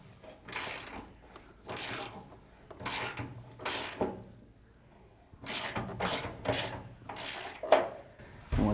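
A bolt on a trailer leaf spring hanger for a 4,000-lb axle is tightened with a ratchet, giving repeated rasping, clicking strokes in a steady back-and-forth rhythm, close by, with short pauses between pulls.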